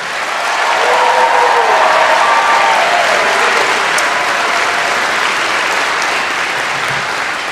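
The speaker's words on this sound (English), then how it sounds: "How about a huge round of applause for everyone from Suzanne?" Loud, sustained applause from a large crowd at a Liberal Party convention, steady clapping filling the whole stretch after a brief swell at the start, with a few faint voices and whistles mixed in.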